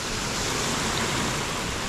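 Ricks Creek Waterfall near Centerville, Utah, pours as a steady, dense rushing roar, loud and unbroken for a brief moment.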